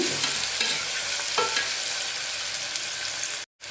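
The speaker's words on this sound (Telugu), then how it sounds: "ఇప్పుడు ఉల్లిపాయ పచ్చిమిర్చి వేసి బాగా ఫ్రై చేసుకుందాం కలుపుతూ ఫ్రై చేసుకోవాలి" Chopped onions and green chillies frying in hot oil in a pressure cooker, with a steady continuous sizzle and occasional stirring scrapes, loud and close throughout.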